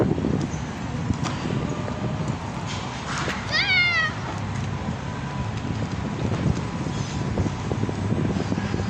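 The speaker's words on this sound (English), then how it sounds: "It's hard to see a black cat at night." A black stray cat meows once at night outdoors, a short wavering cry heard moderately close over steady wind noise and low rumble.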